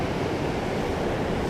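Ocean surf on the Oregon coast during surf fishing, a steady loud wash of breaking waves roaring without a break, with no voices over it.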